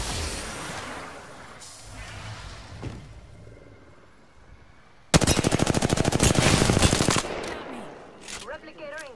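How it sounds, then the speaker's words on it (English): Rapid automatic gunfire in the Apex Legends video game, a loud sustained burst of closely spaced shots after quieter game ambience and a voice, followed by fading mechanical sounds. "They're shooting at me."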